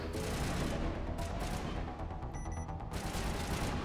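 Gunfire in the video game Mass Effect rattles as a dense, continuous burst of rapid shots and booms, loud and unbroken throughout, with no talking.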